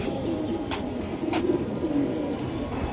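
A Beji pigeon coos in low, repeated throaty phrases at close range, with faint rustling and a couple of sharp clicks around it and no talking.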